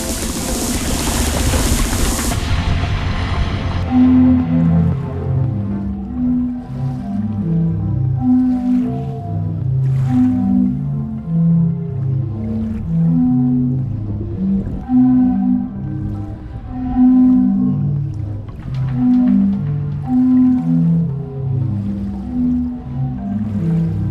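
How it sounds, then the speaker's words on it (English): The sea organ on the Croatian coast: deep, hollow organ-like tones moan and overlap in slow, irregular chords as sea waves push air through pipes, loud and continuous after a brief splash. "a magical instrument where harmonic sounds are created by the waves of the sea."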